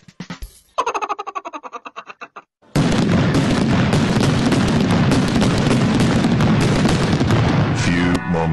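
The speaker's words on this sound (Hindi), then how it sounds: "हम इस बार पटाखे अंदर फोड़ेंगे।" Firecrackers set off indoors: a quick run of sharp pops, then a sudden loud burst that turns into a dense, sustained roar of crackling and booming filling the room.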